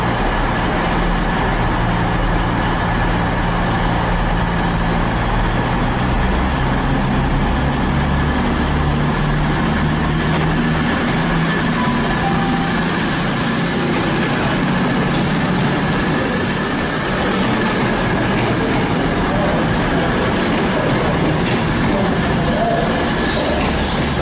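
A Virgin Trains Class 221 passes close by with a loud, steady rumble of wheels on rail and a thin squeal riding above it for the whole stretch.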